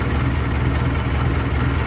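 A 1963 Ford 2000 series tractor idles smoothly, a steady low, loud engine putter with an even rapid rhythm throughout, close up.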